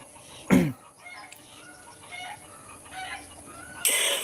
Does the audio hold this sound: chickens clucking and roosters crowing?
yes